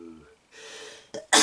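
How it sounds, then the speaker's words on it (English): A person sneezes, a short breathy intake and a sharp catch followed by a loud explosive burst at the end, preceded by brief voice sounds. "I'm gonna sneeze."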